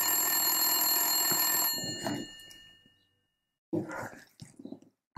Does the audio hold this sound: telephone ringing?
yes